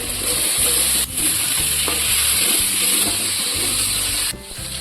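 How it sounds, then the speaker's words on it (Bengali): Fried potato and pointed gourd tossed into sizzling spiced oil in a pan, loud close frying hiss with repeated scraping and stirring strokes of a spatula, and brief dips where the sizzle breaks off; no speech. "এবার আলু পটল ভাজাটা দিয়ে দেবো।"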